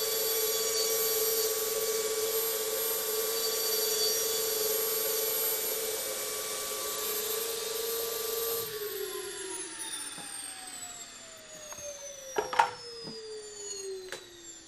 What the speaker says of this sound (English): What I'm going to do is I'm going to relieve a little bit of the wheel